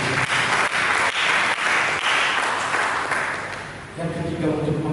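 A church congregation claps steadily during a sermon, dense and fairly loud for about four seconds before thinning out as a voice resumes speaking.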